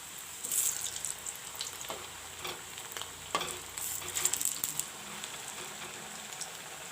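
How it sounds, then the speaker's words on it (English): Banana kofta balls sizzle and crackle gently in hot oil, with occasional louder pops and a soft stirring scrape, steady and close. "How nicely the balls are frying."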